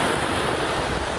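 Surf rolling in steadily at Short Beach in Stratford, a continuous broad wash of waves with some wind noise buffeting the microphone, no voices.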